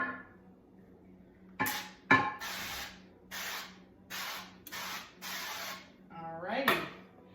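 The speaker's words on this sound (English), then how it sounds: "so now we want to spray the bottom of our baking dish" Olive oil sprays onto a baking dish over a kitchen sink in a series of short, close hissing bursts, about six quick spritzes with brief clinks of the dish between them, and a voice is briefly heard near the end.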